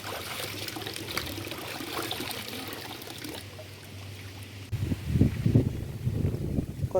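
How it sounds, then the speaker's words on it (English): Clean running water pours and trickles over a cabbage being washed, a steady close splashing that grows louder and more uneven toward the end as the leaves are handled under the flow. "Make sure you wash with the clean water."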